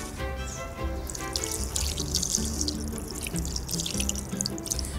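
Water pours steadily into a cooking pot holding meat with dried plums, raisins and honey, a continuous splashing trickle that runs close and clear for several seconds.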